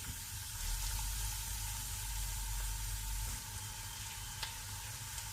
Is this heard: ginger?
yes